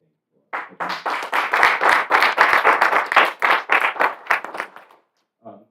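Audience applause at a Caribbean community event, a sustained burst of clapping hands lasting several seconds before tapering off, with a brief patter of claps returning at the end.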